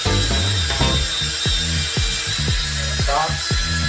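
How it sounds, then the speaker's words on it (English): Pocket hole jig drilling into a 1.5-inch-wide board for a rolling work table, a steady loud drill whine broken by repeated short ratcheting bursts as the bit bites, close up and with no talk. "it'll drill exactly the right pocket hole"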